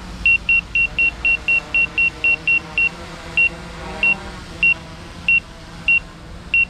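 Autel Evo 2 drone app alert: a steady run of short, identical high-pitched electronic beeps, rapid at first and then spacing out, over a low background hum.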